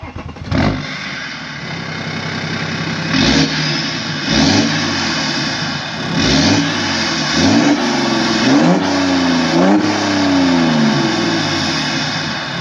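A BMW 530d diesel engine cranks and catches, then revs up repeatedly in short bursts that fall back between them, loud and close, with no talking.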